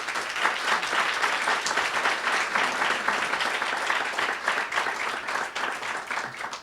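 A conference audience at an Alexander Soros Foundation event breaks into sustained applause, a steady and dense wash of many hands clapping at even loudness throughout.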